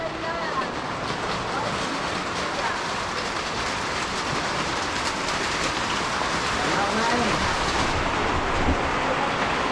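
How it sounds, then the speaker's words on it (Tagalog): Steady rain hisses continuously and evenly, a dense wash of patter that holds at the same level throughout. "Ulan oh."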